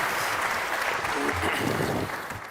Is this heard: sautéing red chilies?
no